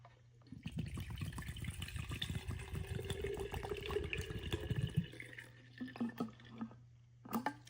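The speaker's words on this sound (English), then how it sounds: "Pour out the cleaning solution that they provided." Cleaning solution pouring from a bottle into the tank of a Bcdroid A10 Ultra robot vacuum's self-cleaning dock, a steady gurgling liquid stream for about four seconds that stops abruptly, followed by a few light plastic handling clicks.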